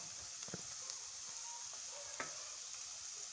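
Fried meal maker manchurian is stirred in a hot pan with chilli and tomato sauce, giving a steady, quiet sizzle broken by a few soft scrapes and clicks of a spoon against the pan.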